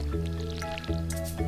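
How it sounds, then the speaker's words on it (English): Watering can refilling at a water source in the farming game Stardew Valley: a couple of brief splashy bursts over steady background game music. "You just go to any source of water, and he magically fills it back up."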